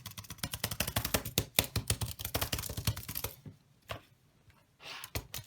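A Palm portable keyboard is typed on rapidly, a dense run of close plastic key clicks for several seconds that thins to a few scattered taps and a brief final flurry.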